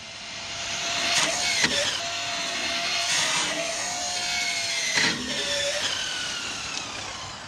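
Traxxas Slash 4x4 RC truck on a 3S battery, its electric motor whining at full throttle with rising and falling pitch as it accelerates and drives outdoors, steady and fairly loud with bumps and rattles, no talking.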